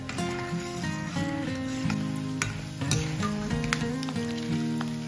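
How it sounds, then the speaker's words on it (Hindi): Bhatt beans roasting in mustard oil in an iron wok over a low flame, giving a continuous crackling sizzle with light stirring, partly masked by steady background music. "उसके बाद हम इसमें भट डालेंगे और हल्की फ्लेम पर इसको भून लेना है।"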